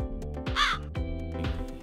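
Crows cawing in a quick run of harsh, raspy calls, close and loud, with a second bird's call answering near the end over a busy background of other birdsong.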